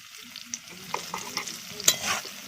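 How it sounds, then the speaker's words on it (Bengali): Okra (ladies finger) frying in a pan, a close crackling sizzle with several sharp stirring scrapes and pops over a low hiss, no voices. "ঢ্যাঁড়সগুলোকে আমি এখন ভাজা করে নিচ্ছি ভালো করে"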